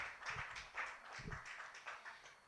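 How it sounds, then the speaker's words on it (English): Spectators applaud a limping player as she leaves the field at a girls' varsity soccer game, Scarlet Knights against Westford Academy. The clapping is scattered and fairly distant, rising in a few uneven bursts over outdoor ambience. "the applause from the folks in attendance here"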